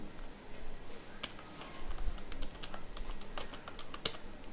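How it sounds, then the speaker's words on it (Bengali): Quiet typing on a computer keyboard, a run of soft, irregular key clicks with a few sharper presses standing out, close and alone without speech. "আমরা এখানে এন্টার প্রেস করে লিখে দিচ্ছি"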